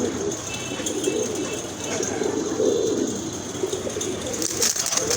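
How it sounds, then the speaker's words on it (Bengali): Pigeons, a large breed offered for sale, cooing softly and repeatedly close by, low rolling calls under faint background noise and occasional rustles. "এখানে কিন্তু আরেক জোড়া কবুতর দেখতে পাচ্ছেন খুবই সুন্দর বিগ সাইজে"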